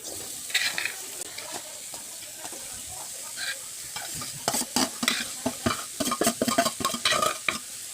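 Steady frying sizzle of grated coconut and jaggery in a hot wok, with repeated scraping and stirring strokes, growing busier and louder toward the end.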